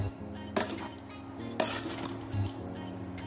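Potato and bean curry stirred in a pan with chili flakes, a spoon clanking sharply against the metal several times over a low steady background, close and fairly loud, with no talking.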